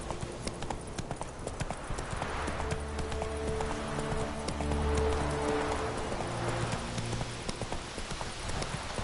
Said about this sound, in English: Come on, Roach.